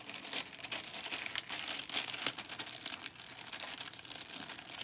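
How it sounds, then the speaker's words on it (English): A plastic bag is folded up by hand, producing close, continuous crinkling and crackling with irregular sharp bursts, fairly quiet and with no talking. "I take the other half and put it into the bag, and then fold the bag up"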